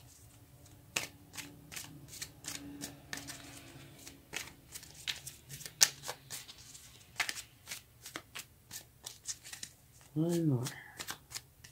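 Tarot cards are shuffled and drawn at close range in a series of crisp riffling and flicking sounds, with a voice speaking briefly near the end.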